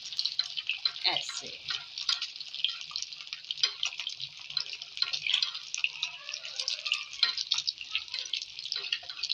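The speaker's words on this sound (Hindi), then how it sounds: "अब मैं साइड से घी लेके अंडे के ऊपर फेंकती जाऊँगी।" Hot ghee splashed over a frying egg in a pan spatters and crackles continuously, a dense sizzle with popping bursts while someone speaks briefly.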